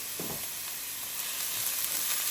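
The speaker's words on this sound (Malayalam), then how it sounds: "ഉള്ളിയും പച്ചമുളകും ചേർത്ത് കൊടുക്കാം കുറച്ച് ഉപ്പും ചേർത്ത് ഇതൊന്ന് വാട്ടിയെടുക്കണം" Onion and green chilli sauté with salt in hot oil, a soft steady sizzle with faint stirring scrapes, quiet and close, no voices.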